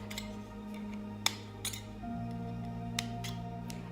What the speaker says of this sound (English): All you do is you just cut around the rim of the metal into small slits.